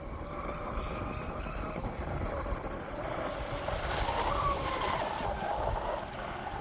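A Pro Boat Blackjack 42 radio-controlled speedboat on slightly worn batteries buzzes across water with a continuous whine, mixed with wind rush and splashing, moving at a distance and rising slightly midway.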